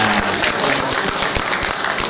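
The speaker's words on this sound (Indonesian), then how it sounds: "Tepuk tangan untuk FDR." Applause from a radio summit audience in a hall, a dense, steady clatter of clapping hands that is close and fills the whole short stretch.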